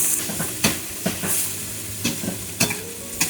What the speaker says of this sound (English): Add in the julienne beef. And quickly separate the beef and the wok.